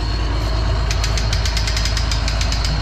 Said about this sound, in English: I'm just winding the auger up now.